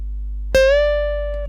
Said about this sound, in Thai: หนึ่งเสียงเต็มครับที่สาย 2 ช่อง 13